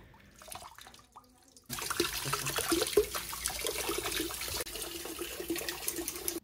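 Two kitchen faucets run at once after a clogged kitchen drain has been cleared; after a quiet start, water gushes in a steady, fairly loud rushing stream until the end.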